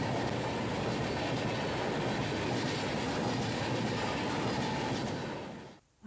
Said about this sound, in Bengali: অনেক দিন পর ট্রেনে চেপেছি